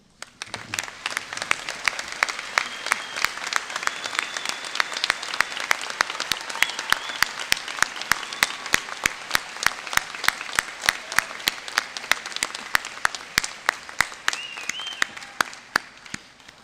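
A large commencement audience applauds the faculty at a State College of Florida graduation ceremony, sustained dense clapping that swells and holds steady throughout, with a few sharp individual claps standing out.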